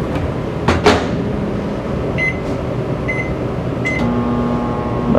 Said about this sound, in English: Pop this in the microwave.